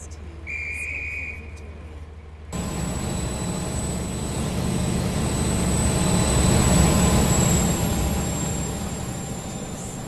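A four-coach train in the Roblox game Stepford County Railway pulling into Stepford Central, a brief two-tone whistle then a rising, sustained rumble of wheels and motors that swells and slowly eases.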